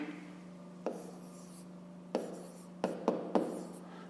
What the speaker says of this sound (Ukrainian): Пишемо дріб.